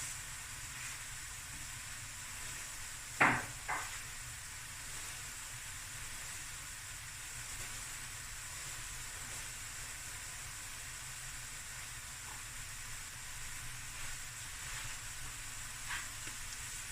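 Cooked speckled brown rice stir-fries on high heat for a clam and crab fried rice, a soft continuous sizzle with a sharp utensil clank near the start and occasional light scrapes.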